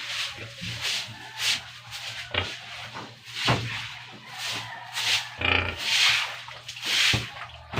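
Sow grunting while being fed at an island farm pen, with soft snorts and grunts among shuffling, clatter and splashing food sounds, interspersed with scattered noises close by.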